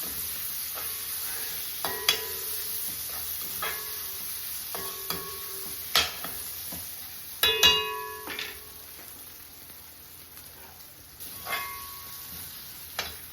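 Onions sautéing in a pan for a Kerala clam fry, with soft low sizzle under a run of sharp spoon-on-pan scrapes and clinks that come in bursts every second or two, close and fairly quiet, no voices.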